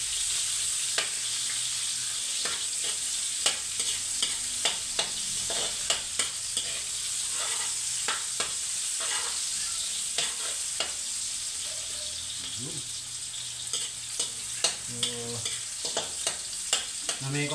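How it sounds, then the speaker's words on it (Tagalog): Onions sauté in a hot pan under a constant sizzle while a spoon scrapes and stirs them in a quick, repeated rhythm, close and steady throughout. "Namekos-mekos na po mabuti ang ating sibuyas"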